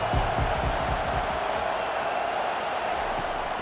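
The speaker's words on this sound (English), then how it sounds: "Decibels rising as the crowd gets behind this defense on 3rd down." A virtual stadium crowd in College Football 25, South Carolina against NC State, roars behind the defense on third down: a dense, continuous wall of cheering that stays loud and even for a few seconds.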